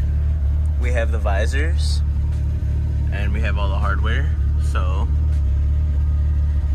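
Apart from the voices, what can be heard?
Mitsubishi Eclipse car noise heard from inside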